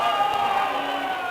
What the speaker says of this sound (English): you can hear the crowd. They're booing the decision.